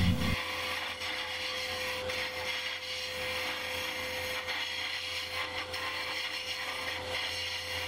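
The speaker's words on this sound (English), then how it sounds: "It's just cleaning out the majority of the wood inside, so it works just like a regular little scraper." A hollowing system scraper cuts into the inside of a turned wooden piece on a lathe, a steady close rasping, scraping drone with faint mechanical rattle, no talk.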